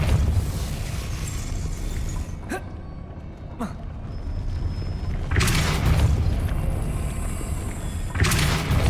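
Depulso spell effect in Hogwarts Legacy: a few distinct whooshing blasts with heavy booming impacts, each rising out of a steady background rumble of game ambience.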